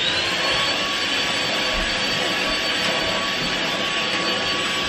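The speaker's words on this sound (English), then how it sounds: "I need to actually take my Hoover up now and go and sort out the floor. Give it a nice vacuum before they come." A Hoover vacuum cleaner runs across a floor with a steady, loud, close-up roar and whine that holds constant for the whole stretch, with no talking.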